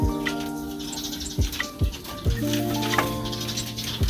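Young female goats bleat in a backyard pen, several loud, close calls overlapping and repeating in short bursts, with brief knocks and scuffles between them.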